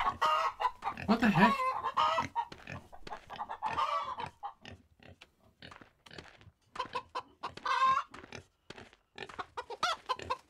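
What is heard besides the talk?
roosters clucking in the video game Wild West Dynasty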